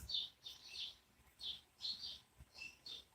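Outdoors, birds give quick, high-pitched chirps in clustered bursts, several calls in about three seconds. The tweets are soft and somewhat distant, with no voices over them.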